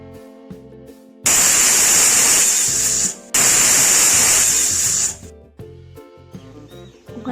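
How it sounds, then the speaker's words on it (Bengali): A pressure cooker making rice payesh lets off steam in two loud, close hissing bursts with a brief gap between them, then falls quiet. "কুকারের গ্যাসটা ছেড়ে গেছে।"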